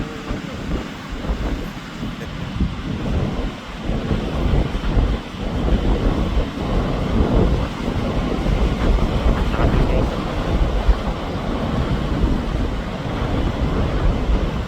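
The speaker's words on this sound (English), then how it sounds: "as you can see, the wind is still pumping" Strong wind at the sea during a fishing session roars steadily into the microphone as a loud, continuous rumble with gusty swells and a faint wash of surf underneath.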